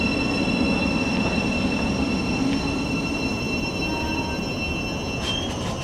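An East Midlands passenger train pulls into platform 1 at a station bound for London St Pancras, a steady loud rumble of wheels and carriages with faint squeals and clicks, no talking over it.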